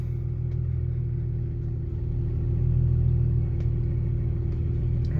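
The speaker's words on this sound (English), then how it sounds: "I'll slowly let out of the clutch and the truck will take off" A manual-transmission truck pulls away as its clutch is let out, a steady low engine rumble that swells slightly and holds, with no voices over it.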